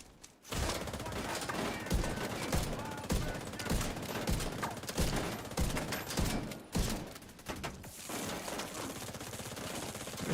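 Rapid gunfire in The Division 2, with a shotgun among the weapons, dense overlapping bursts and blasts filling the whole stretch with a few brief pauses, loud and close, with faint voices mixed in.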